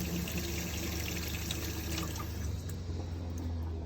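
Water runs from the faucet into a sink in a 2018 Coachmen Crossfit RV and drains away, a steady close pouring and trickling sound with no talk.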